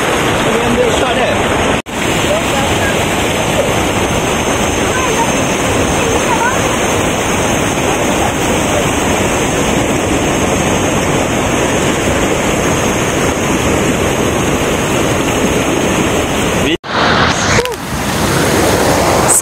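A river rushes near a waterfall at Behrang, Perak, making a loud, steady, close roar of churning water that continues almost unbroken throughout, with a brief dip near the end.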